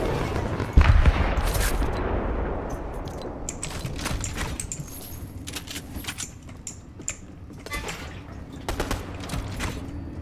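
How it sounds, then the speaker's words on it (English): Gunfire in the Fortnite video game, a burst of loud close shots at the start followed by scattered sharp cracks and distant pops from several directions over a low background. "These shots come from all around me."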